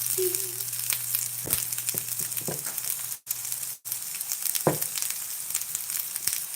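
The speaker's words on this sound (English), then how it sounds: "that grease pop. Pop, pop, pop." Grease crackles and pops while vegan Salisbury steak fries in a pan, giving a steady sizzle with scattered sharp pops, fairly close and moderately loud, with no talking.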